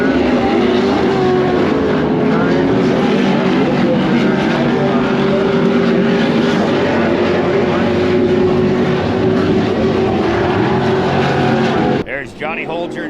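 Pro Light off-road racing trucks at an ERX track race, their engines roaring loud and steady for several seconds with a commentator talking over them before the noise cuts out.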